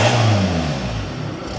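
A Volkswagen Scirocco TDI diesel with a straight-through JAP can style exhaust revs hard close up, a short rough rising roar that settles back toward idle.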